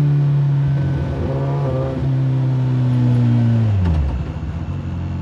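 Campagna T-Rex three-wheeler with a Kawasaki ZX14R motorcycle engine revving hard, its rising then falling engine note loud and close, ending in a sharp drop as revs fall.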